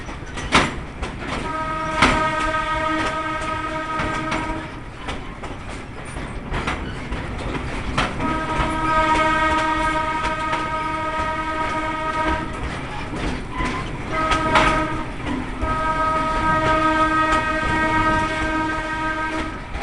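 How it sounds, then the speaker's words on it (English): A train whistle blows in long, repeated blasts over the rumble and clatter of a moving train, fairly loud and close. "You'll get used to our whistle. By law, we're required to sound it at any intersection."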